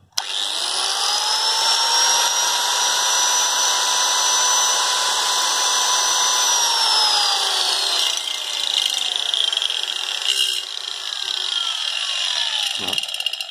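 A Japanese 100-volt handheld power tool runs loud and steady at high speed with a sustained whine, its pitch sagging slightly toward the end before a brief sharp knock near the close.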